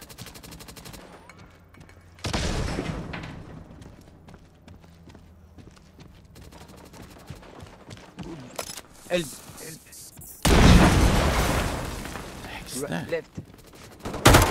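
Gunfire from the VR shooter Firewall Ultra on PSVR 2 erupts in loud bursts of rapid shots, with scattered single shots and footsteps in between and a player talking over the action.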